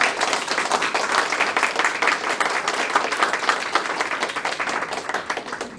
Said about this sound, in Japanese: どうぞ拍手でお迎えくださいませ。